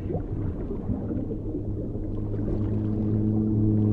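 Deep whale moan in a survival crafting game, sustained low tones that swell and hold over a murky, rumbling underwater bed, growing slightly louder toward the end.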